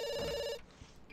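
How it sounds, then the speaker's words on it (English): The Sims 2 in-game telephone trills in a bright electronic ring, then cuts off abruptly, leaving a quieter room tone with a brief tap near the end. "now the phone's ringing"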